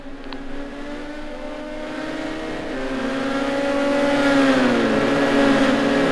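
A race car engine in the GTR2 racing game on the Dubai Club circuit holds a steady drone, then climbs in pitch and loudness as it accelerates through the gears.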